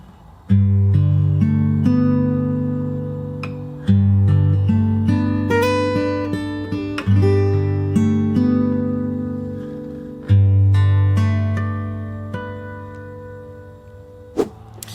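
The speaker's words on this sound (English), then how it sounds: "I'll play the whole intro through" Fingerstyle acoustic guitar plays the intro of a song from Aladdin, a steady run of picked chords and melody notes with fresh phrases struck every few seconds, close and clear, no voices.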